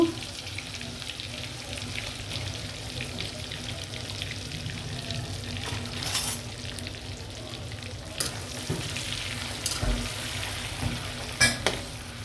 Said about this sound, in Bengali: আমি এখন মাছটি ভেজে ফেলবো।